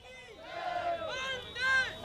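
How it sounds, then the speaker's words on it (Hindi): A crowd at a rally near Jantar Mantar chants slogans in rising, rhythmic shouts, voices swelling in waves over a couple of seconds, fairly faint. "ये भीड़ आपके पीछे जो नारेबाजी कर रही है"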